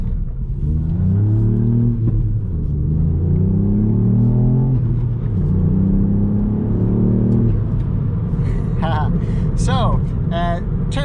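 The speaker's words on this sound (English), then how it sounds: "turns out launch control does not work on mud" A Ford Fiesta ST Mk8 attempts a launch control start on mud, its engine revving hard in repeated rising surges with wheelspin, then easing off as a voice talks over the end.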